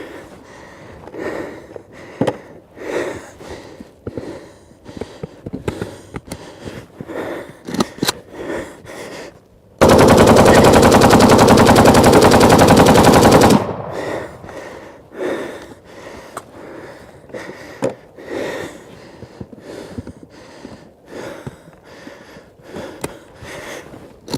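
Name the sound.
Kalashnikov rifle firing until the rounds cook off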